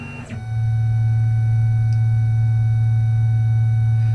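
A CNC machine on a dry run with the rapid feed turned up, moving fast between holes, gives a steady loud low hum and whine after a brief start, continuous and unchanging, with no one talking.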